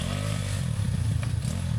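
A smoking Yamaha Mio underbone motorcycle racing in a mototrail challenge in Paracelis, Mountain Province, its engine droning loud and steady at close range with rattling clatter throughout.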